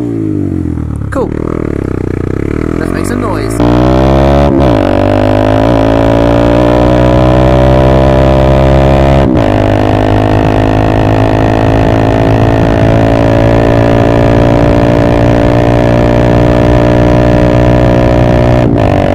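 Honda MSX Grom (125cc) with a TYGA full stainless race exhaust and carbon can, idling and revving in steady loud blips with a constant harmonic drone, close by, no talk.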